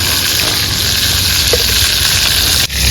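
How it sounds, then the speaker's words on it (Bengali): Pieces of pointed gourd and paneer fry in hot oil in a pan, giving a close, steady sizzle and crackle with a brief dip just before the end. "পনিরগুলোও কিন্তু ভাজা হচ্ছে।"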